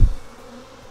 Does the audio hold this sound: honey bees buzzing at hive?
yes